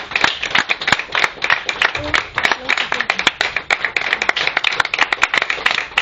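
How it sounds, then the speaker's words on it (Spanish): A church congregation claps hard for Jesus during a Sunday morning service, many hands beating in fast, uneven bursts with a few voices calling out beneath the clapping. "Dale un aplauso fuerte a Jesús esta mañana."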